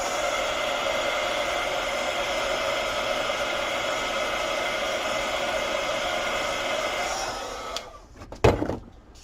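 A hair dryer blows steadily at close range, drying alizarin crimson watercolor paint on paper, then shuts off near the end, followed by a couple of brief knocks.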